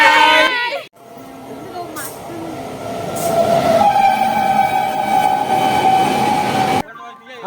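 A train pulling into a station on the way to Burdwan, with a loud rumbling rolling roar, squealing wheels and a sustained whistle-like tone building over several seconds before cutting off, with a voice briefly heard at the start and end.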